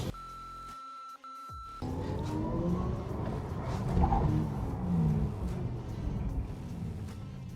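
Audi RS e-tron GT Performance electric car on a launch control start, a tone and a short silence, then a rising electric whine and road rumble building steadily as the car accelerates.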